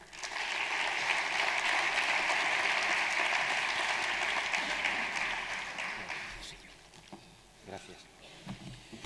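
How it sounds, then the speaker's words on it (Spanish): A hall full of people applauds at an awards and closing ceremony, a dense steady burst of clapping that holds for several seconds and then thins into scattered claps and room murmur. "Un aplauso para él."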